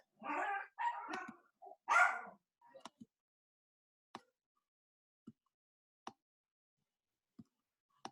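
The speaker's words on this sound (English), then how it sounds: "I apologize for the dogs barking in the background." A few dogs let out short, sharp barks at irregular intervals, each one isolated against near silence, after a stretch of talking at the start.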